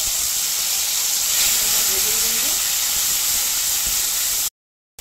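Sesame, fennel and ginger spice paste, loosened with a little milk, sizzles in a hot pan as a loud, dense, steady hiss that cuts off abruptly near the end.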